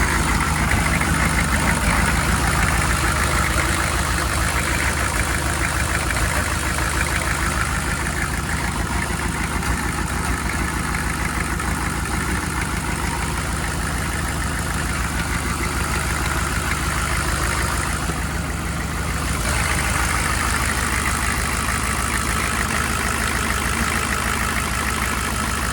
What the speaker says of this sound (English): Right there, it's pretty well smoothed out into a normal idle.